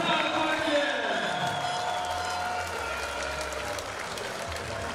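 A basketball crowd applauds steadily, clapping merging into a broad wash of noise that gradually softens over several seconds.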